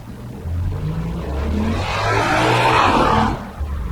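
A Toyota or Lexus vehicle runs nearby with a low steady engine rumble that swells into a louder, rising surge before easing off, with no talking.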